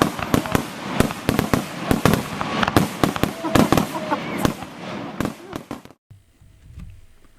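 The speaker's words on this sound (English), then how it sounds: "So let's take a pause and let the fireworks happen." Fireworks sound effect of loud, densely packed crackling bangs and pops bursting for about six seconds, then cutting off to a faint, near-silent tail.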